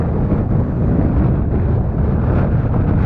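A boat's engine runs steadily while heading out of the harbour at Caleta de Vélez in rough, choppy sea. The deep, even roar is close and constant and is mixed with wind buffeting the microphone.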